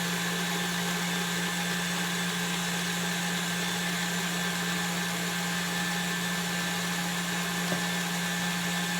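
An electric mixer whips cream in a bowl, a steady, even motor whine with a sustained hum that holds loud and constant throughout, no voices over it.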